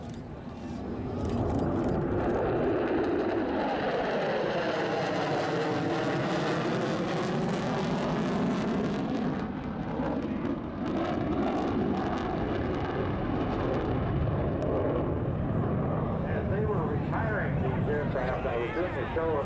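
B-1B bomber roaring past at an airshow with throttle advanced, a loud sustained jet roar that swells and sweeps in pitch as it passes, with someone talking over it.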